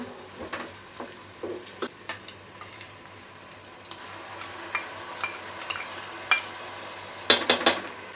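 A ginger, garlic and chili paste is sautéed with softened onions and tomatoes on a tawa for pulao, heard as a soft steady sizzle with scattered spoon scrapes and taps against the pan.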